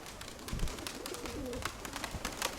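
Domestic pigeons coo softly after being let out of their loft on a windy day, low murmuring calls repeating over steady wind noise and faint background rustle.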